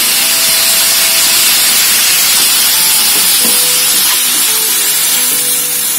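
Vegetable momo filling frying in a pan with soy sauce, a loud, continuous sizzle and steamy hiss close by, with scattered scrapes and knocks of stirring mixed in and no speech.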